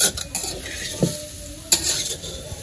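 Mango pickle simmers in a pot while a spoon stirs it, giving a soft sizzle under a few distinct scraping strokes against the pot's sides and bottom, heard close with no talking.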